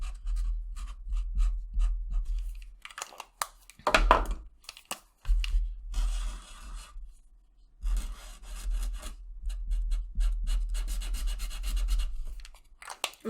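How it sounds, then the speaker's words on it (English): Pastel sticks scribbling across an art board, giving dry, scratchy rubbing strokes in irregular bursts with short pauses, close and fairly quiet. "I'm just kind of scribbling."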